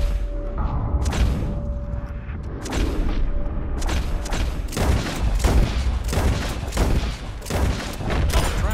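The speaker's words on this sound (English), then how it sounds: "As soon as you see him, start shooting." Rapid volleys of gunfire in Red Dead Redemption 2, a dense run of sharp close shots with booming tails, overlapping almost continuously with a faint steady tone beneath.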